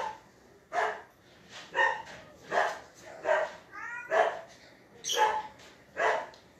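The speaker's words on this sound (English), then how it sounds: "My dogs are actually playing back there. That's why they're barking and not playing." Dogs at play barking in a steady series of about eight sharp barks with a brief yelp among them, fairly close and loud, with no talking over them.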